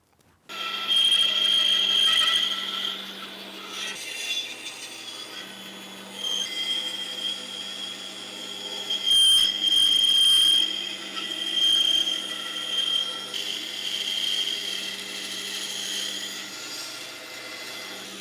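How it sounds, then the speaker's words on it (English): A bandsaw cuts out a traced wooden hand pattern for a sack back Windsor chair, its steady whine running continuously with a low motor hum and shifting as the blade feeds through the wood. "I'll cut that out on the bandsaw"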